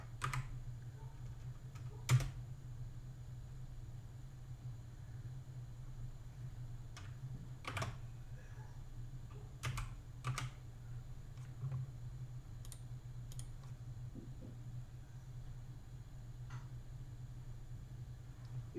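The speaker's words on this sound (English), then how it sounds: "I'm typing Ken a message." A computer keyboard taps quietly and irregularly in scattered clicks and short bursts over a steady low hum, with a few louder keystrokes standing out.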